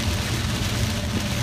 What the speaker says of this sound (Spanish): Mire qué clase de lluvia hay